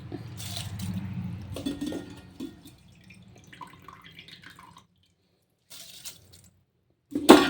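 Wet splashing and trickling as water is strained off washed rice, fading to quiet drips with a short splash at the end.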